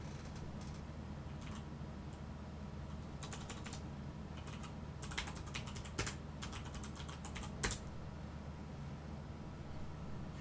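Faint, scattered clicks and short bursts of keystrokes on a computer keyboard over a steady background hiss, with no voices.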